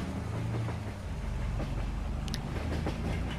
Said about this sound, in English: Whoa, and there comes the train,